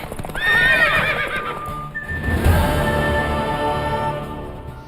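A horse whinnies loudly and close, a long descending neigh followed by a second drawn-out call, with hoof clip-clops and faint background noise.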